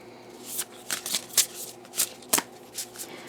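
Cards from a Woodland Wardens deck being shuffled: a string of crisp, papery riffle bursts at an uneven rhythm, close and moderately loud, with no voices.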